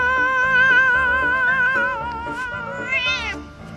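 A cat meows in a long, wavering, drawn-out cry that sounds close and loud, with a second rising call near the end over a faint busy background.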